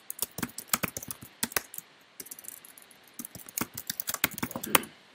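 Fast typing on a computer keyboard while coding, crisp close key clicks in quick irregular bursts with a short pause midway.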